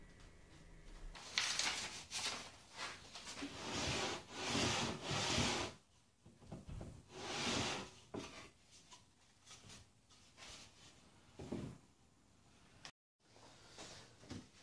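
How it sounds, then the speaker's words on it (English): A light wooden router planing jig sled slides back and forth along its wooden rails, giving repeated close rubbing, scraping strokes with short pauses between passes. "The sled slides really well."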